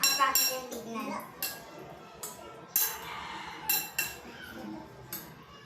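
A spoon scrapes and clinks against a bowl while tuna and mayonnaise are mixed, sharp metallic taps at uneven intervals, close up, with faint voices in the background.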